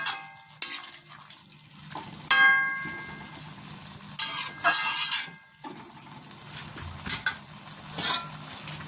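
Khesari greens are stirred with added water in a pan: loud spoon scrapes and metallic clinks come in irregular bursts over a steady wet sizzle, close up, and nobody speaks.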